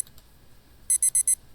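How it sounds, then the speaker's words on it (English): A video game alarm beeps in four quick, evenly spaced bursts, loud and close, after a stretch of quiet low background hum. "So the alarm isn't beeping during our outro"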